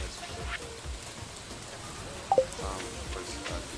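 Soft, steady rain patter falls in the farming video game Stardew Valley, a faint continuous hiss with a couple of small blips in the middle.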